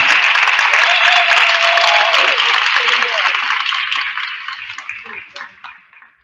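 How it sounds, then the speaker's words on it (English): Audience applause for recognized students at an 8th grade promotion ceremony, a loud dense clapping crowd that holds steady for several seconds and then thins out and fades away. "Let's give them a round of applause."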